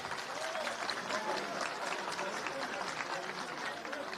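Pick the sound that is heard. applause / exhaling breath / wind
applause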